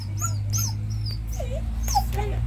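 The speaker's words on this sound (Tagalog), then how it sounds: "Nagalit ang aso." An agitated dog yips, whimpers and gives short high cries over steady low hum, several sharp calls spread across a couple of seconds at moderate distance.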